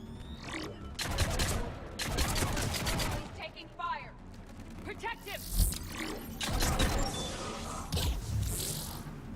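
Gunfire in the video game Mass Effect 3, rapid bursts and volleys of shots mixed with game effects and character voices, dense and continuous throughout.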